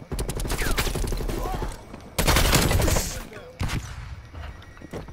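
Video game gunfire from a first-person shooter match, rapid automatic bursts with a heavy loud volley midway and a final shot, close and dominant, with brief game sounds between.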